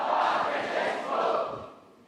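A crowd cheers and shouts for Pope Francis during his 2024 visit to St Theresa's Home in Singapore, a loud, broad roar that swells, dips, then rises again before fading toward the end.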